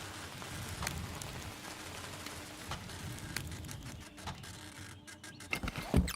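Steady rain falling across a coastal landscape in the exploration game Outbound, a soft continuous patter with a few sharper drip and tap sounds, growing busier and louder near the end.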